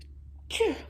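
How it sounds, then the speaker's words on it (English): A single short sneeze bursts out close by after a brief quiet pause. "There's a sneeze in there."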